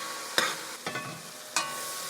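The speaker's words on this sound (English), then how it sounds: "Now you want to go ahead and check and stir." Rice and tomatoes with spinach and crab meat being stirred in a single pot, three separate scraping strokes against the pot over a faint simmer, close and fairly quiet.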